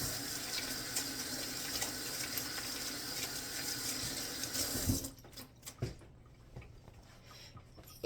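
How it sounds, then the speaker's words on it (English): Water runs steadily from a kitchen tap while someone rinses their hands after preparing iguana food, a continuous splashing gush that cuts off after about five seconds, followed by a few faint clinks and handling noises. "So I'm going to rinse my hands off and then show you the final plating."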